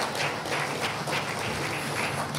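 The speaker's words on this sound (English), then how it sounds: "Let us give the executive members a round of applause," Audience applause for the executive members at a Free National Movement gathering during a senators' swearing-in ceremony, a steady dense wash of many hands clapping at moderate distance with no talk.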